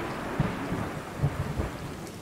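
Thunder rumbling under steady rain in the video game Stray, a low continuous roll with a few soft swells, moderately loud and with no voices.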